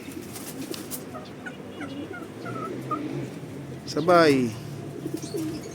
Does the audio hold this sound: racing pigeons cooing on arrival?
yes